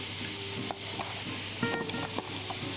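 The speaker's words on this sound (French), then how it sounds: "On va poêler les petits champignons dans une huile d'olive." Small mushrooms sizzle as they pan-fry in olive oil, a dense, steady hiss up close with a few clinks and scrapes of stirring, no voices.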